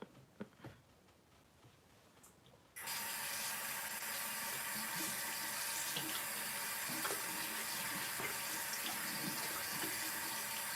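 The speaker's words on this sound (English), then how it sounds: "I'm just rinsing my rag off a bit so I can get back on here and continue wiping this off" Tap water starts running into a sink after a few quiet knocks, then pours in a steady, close, even rush as a rag is rinsed under it, with no talking.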